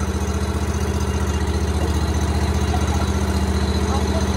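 A small engine, likely a lawn mower at a lawn care storage unit, idles below full throttle with a close, steady pulsing drone and rattling vibration.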